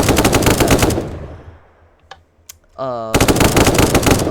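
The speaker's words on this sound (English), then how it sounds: "Now, the MK47. This gun's recoil is not easy to control." Rapid automatic bursts of MK47 fire from a Minecraft gun mod rattle loud and close, with a brief mechanical reload clatter in the quieter gap between two long strings of shots.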